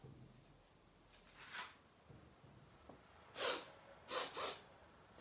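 A voice imitates a mouse sniffing, giving a few quick breathy sniffs followed by two sharper, louder clusters of snuffling bursts, close and alone, without speech.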